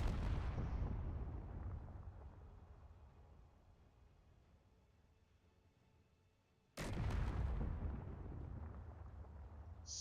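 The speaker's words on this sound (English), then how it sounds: "it sure does look like we are firing some kind of scatter gun" Heavy gunfire from a ship-mounted scatter gun in a ship-building game: a loud booming burst that decays over several seconds, then a second sharp, loud blast near the end.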